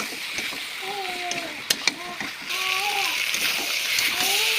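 Chicken pieces drop into a pan of spiced masala with turmeric, chili powder and tomato, giving a splattering sizzle with a couple of sharp clatters; a faint voice talks in the background.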